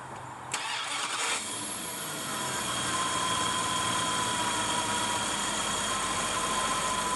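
A 2001 Dodge Ram 2500 engine cranks briefly, catches and settles into a steady idle, heard up close with a continuous even hum and no talking.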